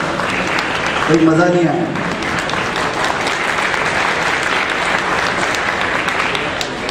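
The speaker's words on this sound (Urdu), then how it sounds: "ان کے لیے ایک مرتبہ پھر تالیاں ہونا چاہیے" An audience at an All Sindh Private School Association gathering applauds its district president, with steady, dense clapping filling the whole stretch while someone speaks over it.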